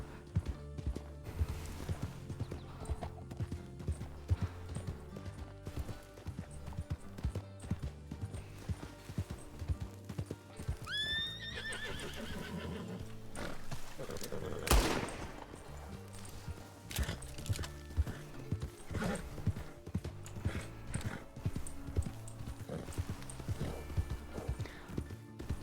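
Rhythmic clip-clop of horse hooves in the video game RedM continues throughout, with a brief neigh midway and a sharp thud, over low background ambience.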